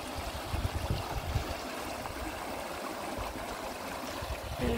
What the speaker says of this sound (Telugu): పైనుంచి వస్తున్నాయి నీళ్ళు.